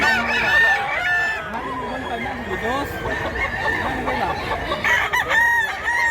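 Mountain-raised roosters and hens crow and cluck close by in overlapping, repeated calls, with someone talking over them throughout.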